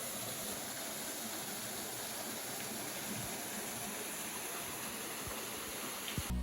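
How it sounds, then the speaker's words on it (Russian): A steady broadband rush of falling water from a small waterfall in a rock park at Adršpach, constant and fairly close, splashing without pause, with no voices. "На территории парка есть водопад."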